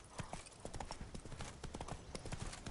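Roach the horse's hooves clip-clopping in The Witcher 3: Blood and Wine, a steady, even trot of hoofbeats heard close up and fairly quiet under soft ambient game sound.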